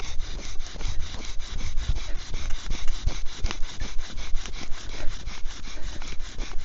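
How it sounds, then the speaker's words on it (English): A wooden bow drill spindle grinds steadily against a wooden fireboard, driven by a root-fiber bowstring, producing a loud, rhythmic back-and-forth rasping with regular strokes throughout. "I'm drilling at an angle with the bow so the bow string doesn't rub on itself."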